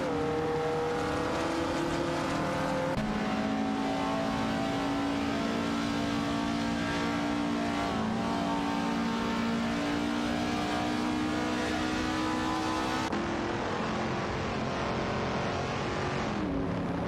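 Race cars in a racing video game drone past in a continuous blur of engine roar, revs rising and shifting as cars overtake one another, steady and fairly loud with no voices.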